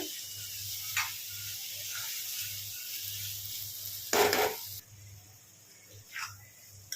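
Chana dal frying in oil, a soft steady sizzle with a low rhythmic hum underneath and a few louder scraping stirs.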